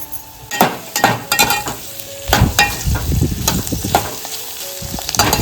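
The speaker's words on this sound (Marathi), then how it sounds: "आता कांदा टोमॅटो मस्त परतवून झालाय." Onion and tomato with curry leaves fry for a tempering, sizzling loudly up close while a spoon stirs and scrapes the pan in bursts.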